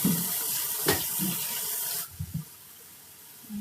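Water runs from a kitchen tap as something is washed before cooking, a steady splashing flow that cuts off partway, followed by soft handling clatter.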